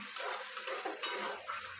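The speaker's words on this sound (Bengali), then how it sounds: "এবার একটু নেড়ে নেব" Food being stirred in a pan before pasta goes in, with light clinks and scrapes of a utensil against the pan over a faint sizzle, close by and without speech.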